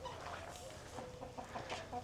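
Several chickens on a luxury estate property in Gilbert, Arizona cluck softly and intermittently at a distance, faint against quiet outdoor background noise.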